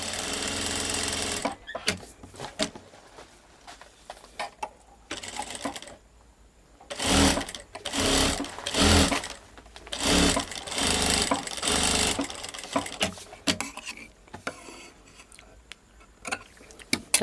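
A sewing machine runs long basting stitches along a blouse hem, with intermittent bursts of mechanical whirring and ticking that start and stop, separated by quieter handling sounds.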